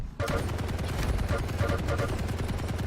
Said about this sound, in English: Use machine gun.